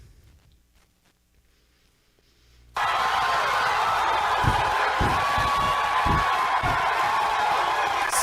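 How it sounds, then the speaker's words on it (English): A big crowd cheering, roaring steadily and loudly after a near-silent opening, with a few sharp thumps and claps scattered through the noise. "The big crowd of people cheering for you."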